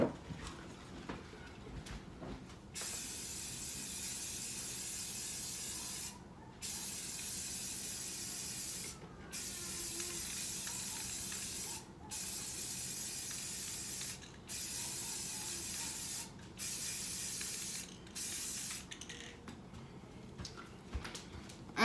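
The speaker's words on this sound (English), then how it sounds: "we're gonna spray this now with white" White spray paint is sprayed onto a light purple coffee mug in repeated long hissing bursts, each several seconds long and separated by short pauses, close and fairly loud.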